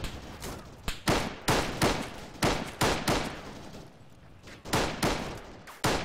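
Gunfire in a tactical military video game cracks out as a string of heavy, booming shots, roughly a dozen separate reports at uneven intervals, each with a short echoing tail, loud and fairly close.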